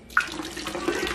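Water churned and stirred in a small fish pond kept without an air pump or filter, a brief close rushing splash with a sudden onset that continues steadily, like running tap water.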